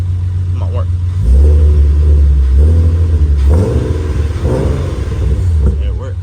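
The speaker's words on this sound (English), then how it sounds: "Let me rev it to make sure the throttle actually works" Nissan 370Z engine revved up twice from idle in close, loud rising surges, the deep rumble holding between blips.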